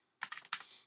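A quick burst of several keystrokes on a computer keyboard, close and crisp, followed by a short fading tail in otherwise quiet surroundings.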